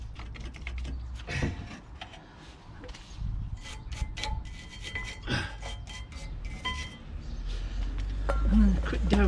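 Close, uneven scraping and rubbing strokes of a brush scrubbing a front brake caliper clean on a 2011 BMW X1, with scattered clicks and knocks from handling parts.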